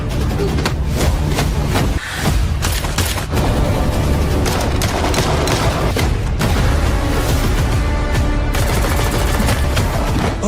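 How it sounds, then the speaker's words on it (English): Dense gunfire and booming explosions from an action movie trailer, rapid bursts and heavy impacts packed together with music, loud throughout with a brief drop around two seconds. "Expect gunfights, gritty brawls, and explosions that feel like they were torn straight from a graphic novel"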